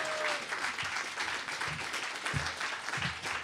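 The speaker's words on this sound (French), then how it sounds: "Alors, ouais, on les applaudit bien fort." An audience at an adult education event in Quebec applauds, steady dense clapping of moderate loudness that carries on throughout.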